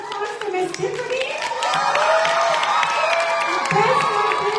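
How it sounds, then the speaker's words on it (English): A school audience at an end-of-year concert claps steadily while children shout and cheer, a dense, sustained burst of applause that grows slightly louder midway and holds to the end. "Let's give another big round of applause to Miss Tiffany."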